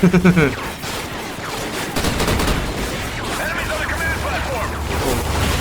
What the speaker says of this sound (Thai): โอ้ยโหระเบิด